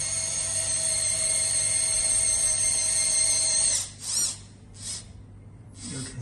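A small electric motor whines steadily on an FMS Land Cruiser 45 RC scale pickup truck running in low gear, a loud, continuous high-pitched drone close by that suddenly cuts out and then gives a few short revving bursts.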